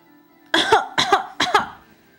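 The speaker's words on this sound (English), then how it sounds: "Oh, she has a very bad cough." A girl gives three harsh, wet coughs in quick succession, close to the listener, with short pauses between and quiet around them.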